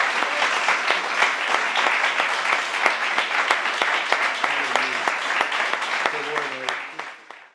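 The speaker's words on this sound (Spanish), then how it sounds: "Un aplauso fuerte a nuestro Dios" Loud, sustained applause fills a church at the inauguration of a new congregation in Jávea, Alicante, with dense clapping steady throughout and a few low voices calling out near the end before it tapers off.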